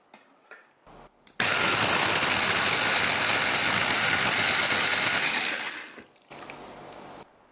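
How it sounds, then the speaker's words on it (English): A loud, steady blender roar as pandan leaves are blended with water runs for about five seconds before winding down, with a few faint clicks before and after. "Let's blend the pandan leaves with water."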